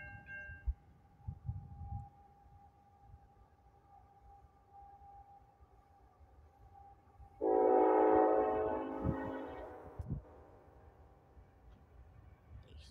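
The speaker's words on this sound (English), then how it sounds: "Got another train." A Union Pacific train carrying a fresh Norfolk Southern coil car roars past for a few seconds, loud and broadband with horn-like tones, rising abruptly out of a quiet low rumble and then fading.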